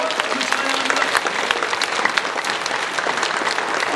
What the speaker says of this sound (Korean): 우리 주님 앞에 한번 영광의 박수 뜨겁게 돌려드리면 어떨까요?